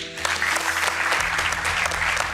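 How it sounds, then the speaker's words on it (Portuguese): A studio audience on a Portuguese television quiz show applauds the women's national football team, a loud, full burst of clapping that begins abruptly and holds steady, with no voices over it. "Um enorme aplauso para elas"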